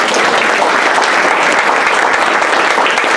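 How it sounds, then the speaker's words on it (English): A board of education general session meeting in Grand Island, with the room breaking into sustained, dense applause that is loud and close, steady for the whole stretch with no pauses. "Let's give him a round of applause."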